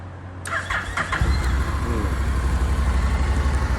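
A Honda NM4 motorcycle's two-cylinder engine cranks and catches after a few clicks, then settles into a steady, close idle rumble.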